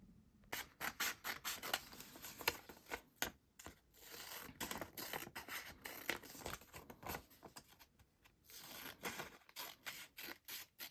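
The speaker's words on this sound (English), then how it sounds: "I'm going to just cut all these out and stick them in there and write some notes" Scissors snip steadily through magazine pictures being cut out for a sketchbook mood board, in quick repeated bursts of crisp paper cutting with brief pauses between them.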